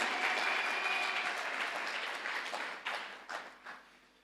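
Sustained applause from an audience at the inauguration of an international conference, loud and steady at first, then thinning into scattered claps toward the end.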